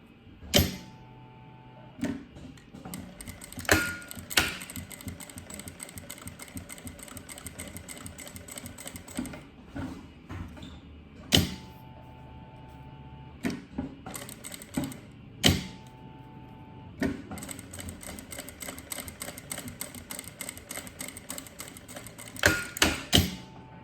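A sewing machine stitching a fabric strap for a handmade case, delivering repeated bursts of rapid mechanical clatter separated by short pauses, close and fairly quiet.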